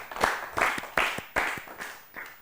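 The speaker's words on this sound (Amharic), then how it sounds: "አጨብጭቡለት በደንብ አድርጋችሁ።" Children in the audience of an Ethiopian kids' TV quiz show clap for a contestant in a series of rhythmic bursts that gradually grow softer.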